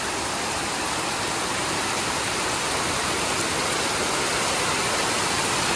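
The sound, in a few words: heavy rain on a village hut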